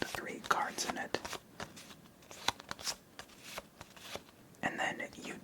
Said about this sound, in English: first you flip the discard pile face down, then you shuffle it